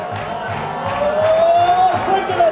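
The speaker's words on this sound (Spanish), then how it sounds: "¡Fuerte el aplauso para Fernando II, que se presenta esta noche!" A variety-show audience cheers and claps for the stage performer Fernando II, a brief, lively burst of crowd noise that swells toward the end with a thin whistling tone on top.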